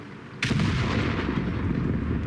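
A single loud tank cannon blast from a Jagdpanzer E 100 tank destroyer in World of Tanks, a sharp report followed by a long rumbling tail.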